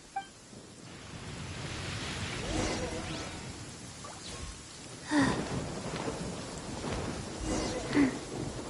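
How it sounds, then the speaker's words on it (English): Thunderstorm in Genshin Impact, with steady heavy rain hissing throughout and two deep rolling thunder cracks partway through, loud and close. "Uh-oh! Lightning storm!"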